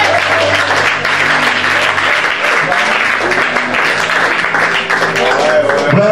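A church congregation bursts into sustained applause and cheering during a Bible teaching, loud and dense throughout, with voices mixed into the clapping.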